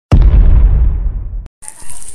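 A single explosion sound effect: a sharp, loud boom that rolls into a long, fading rumble for over a second, then cuts off. A brief hissy noise follows.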